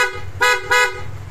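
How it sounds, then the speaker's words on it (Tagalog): Two short, loud blasts from an aftermarket PIAA motorcycle horn in quick succession, bright and buzzy, with a quiet pause between them and a low idle hum behind. "So, busina pogi."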